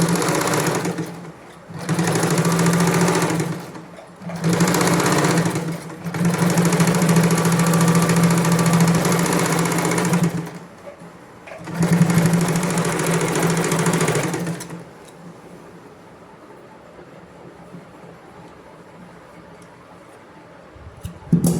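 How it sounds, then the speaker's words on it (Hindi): Sewing machine stitches piping along the edge of a kurti in several loud bursts of steady motor whir, separated by short pauses, before falling quiet near the end. "तो इस तरह से फिर मैंने पाइपिंग को अब आगे तक पूरा स्टिच कर लेना"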